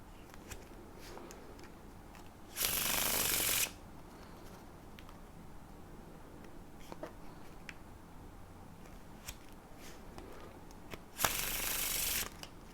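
A deck of playing cards is faro shuffled up close, giving two brief, dense riffling bursts about eight seconds apart with quiet handling in between and no voices.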